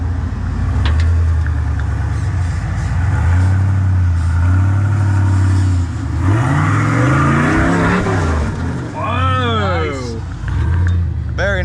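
An off-road vehicle climbing a trail, its engine revving and straining in loud rising and falling surges, with people talking over the engine noise.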